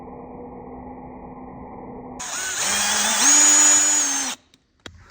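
A power drill bores into a sheared bolt stuck in a bearing housing, starting as a low steady whir, then jumping to a loud, harsh high-pitched grind as the bit bites, its pitch rising before cutting off abruptly with a brief rattle after.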